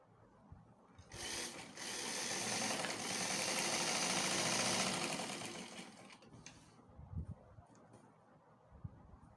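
Sewing machine stitching the seam of a palazzo trouser, a fast steady mechanical whirr that starts abruptly, runs about five seconds and stops, followed by faint handling clicks and bumps.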